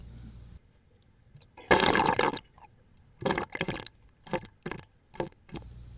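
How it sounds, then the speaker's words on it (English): Water gurgles and splashes in short irregular spurts as it drains from a bottle into container plant basins, with a longer pour near the start and several quick bursts after, against quiet surroundings. "the water is released from the water bottle"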